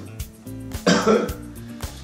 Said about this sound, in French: Vous avez sûrement remarqué que je tousse.